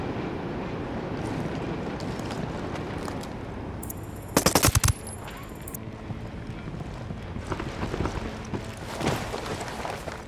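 Video game gunfire in Ghost Recon Wildlands, with bursts of rapid shots cutting through a busy mix of game sound and effects; the loudest volley comes in a short, sharp cluster midway.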